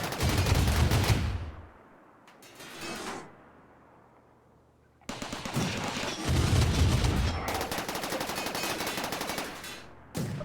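Rapid automatic gunfire in the video game RimWorld Odyssey, with loud sustained bursts and a brief lull between them, then a long continuous volley near the end.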